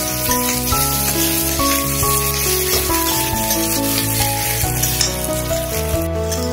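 Onions fry in a pan, a loud, steady sizzle close by with occasional stirring, continuous for several seconds.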